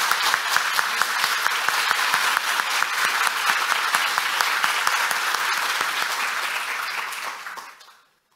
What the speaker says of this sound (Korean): 여러분 뜨거운 박수로 다시 환영해 주시기 바랍니다